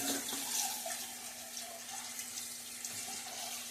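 A water tap runs steadily while a shaving bowl is rinsed out in a sink, a continuous close splashing stream lasting the whole few seconds, with no talking.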